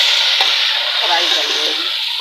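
Soaked rice fries in a pan with green chillies, cumin and garam masala, giving a loud, continuous hiss with a few soft stirring scrapes.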